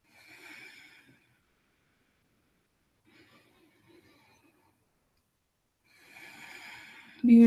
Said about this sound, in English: We'll do just a couple yoga breaths.